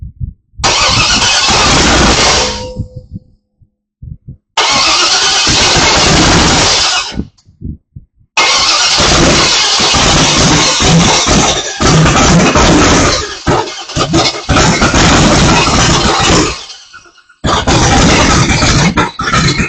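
A 1933 Miss BeHave engine cranks and fires, roaring loudly in several long bursts, cutting out and restarting between runs, close and dominant with no talk over it.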